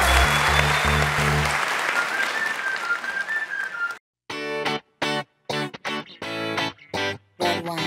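A Turkish talent show audience applauds loudly for about four seconds, a broad steady wash of clapping, after which bursts of upbeat stage music play in short stop-start chunks.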